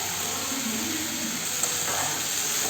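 Onion and tomato with salt sautéing in a pan, a steady soft sizzle and hiss running evenly throughout with no talking.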